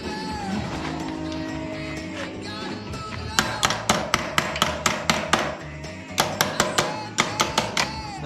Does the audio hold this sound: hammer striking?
yes